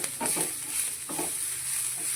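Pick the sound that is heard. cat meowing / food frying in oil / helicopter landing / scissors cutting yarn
food frying in oil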